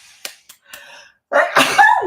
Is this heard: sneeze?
yes